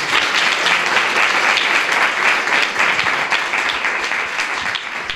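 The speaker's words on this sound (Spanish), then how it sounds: "un aplauso para Loli" Audience applause for an outgoing women's association president, a steady dense wash of clapping that stays loud and even throughout, with no talk over it.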